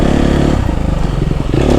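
A KTM 250 SXF dirt bike rides a forest trail, its engine loud and close, holding a steady drone before dropping into choppy, revving bursts with clattering over rough ground, then climbing again.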